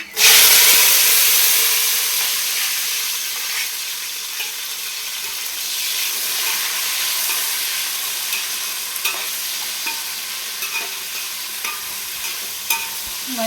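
Chopped onions, tomatoes and green chillies drop into a hot pan with a sudden loud sizzle, then keep frying in a steady close hiss with faint scraping stirs, no voices.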